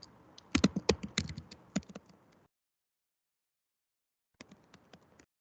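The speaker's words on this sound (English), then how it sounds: "I will type here" Computer keyboard typing in quick irregular bursts of keystrokes, a dense run for about two seconds, then a pause of silence and a shorter, softer flurry near the end.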